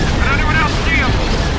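Cannon fire and explosions rumble continuously in a Star Wars: Empire at War space battle, with warbling laser-like tones over the booms and a voice speaking on top.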